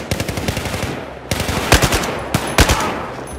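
Automatic weapon fire in the shooter game Battlefield 4, loud rapid bursts of shots separated by brief pauses, close and punchy with no talk over it.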